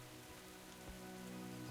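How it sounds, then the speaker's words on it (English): Rain falling in World of Warcraft, a faint, steady patter on surfaces with a soft low hum beneath, continuous and calm with no voices. "I love that it's raining out"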